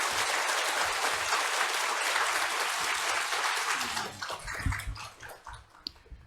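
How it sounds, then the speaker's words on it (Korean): A church congregation applauds warmly for several seconds, a dense steady clapping that thins out and tapers into scattered claps and faint murmurs toward the end. "박수로 격려하겠습니다"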